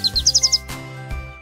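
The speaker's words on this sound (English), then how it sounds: "Oh, birds." Bright birds chirping in the Paper Girl mobile video game, a quick run of five or six close, repeated tweets over a steady game music bed.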